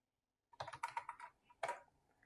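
Typing on a computer keyboard while entering text into an Excel cell: a quick run of close, clicky keystrokes followed by a brief pause and a final short burst of keys.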